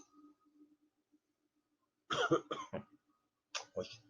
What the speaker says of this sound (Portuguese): Gosto nem de tossir, tô tossindo.